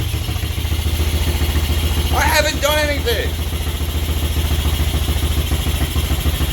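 A Honda 200SX ATV engine, revived after water got into the airbox, idles with a steady, low, chugging rumble; someone says a few words briefly over it partway through.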